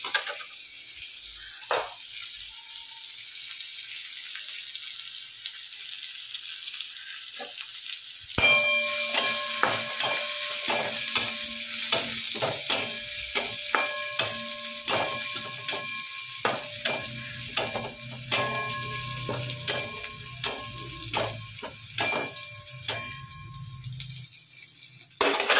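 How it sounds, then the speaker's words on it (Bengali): Onions fry and are stirred in a spice masala, a steady loud sizzle running throughout, with rhythmic clanging scrapes of a spoon against the pan growing regular in the second half. "এবার একটু নেড়ে নেবো, পেঁয়াজগুলো লাল হলেই ওর মধ্যে মশলাটা দিয়ে নেবো।"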